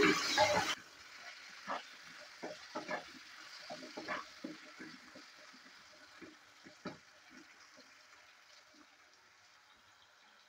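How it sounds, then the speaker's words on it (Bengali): Potatoes frying with salt and turmeric in a pan, a soft sizzle under repeated scraping stirs and clinks, opening with a brief loud burst and then settling into quieter intermittent stirring. "আলুটা ভালো করে ভেজে নিয়েছি। যতক্ষণ কালারটা চেঞ্জ না হয় ততক্ষণ অবধি আমি ভালো করে এটাকে ভেজে নিয়েছি।"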